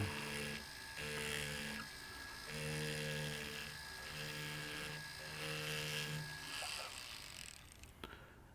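A rotary wheel grinding a jewelry tube setting, a high steady motor whine with tonal hum that rises and dips as the piece is pressed on and off, then winds down near the end; no speech.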